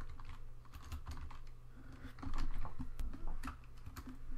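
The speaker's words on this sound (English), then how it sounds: "we type Bob's Ferraris" Rapid, uneven clicks of keys on a computer keyboard as text is typed, close and fairly quiet, in a short burst with no voices.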